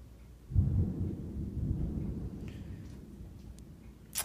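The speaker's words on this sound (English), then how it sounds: "Oh, it's just lightning. Wait for the thunder." Distant thunder rumbles low and long during a rainstorm, swelling suddenly then slowly fading over several seconds, with a faint crackle at the end.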